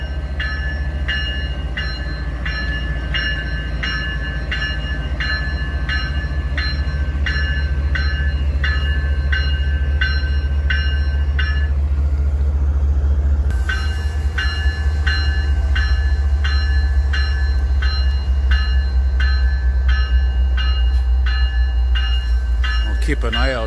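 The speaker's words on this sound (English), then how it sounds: "I love the sound of that compressor." A locomotive air compressor at Dorval station, Montreal, chugs steadily with a deep rumble and rhythmic ringing pulses, pausing briefly midway before resuming; loud and continuous.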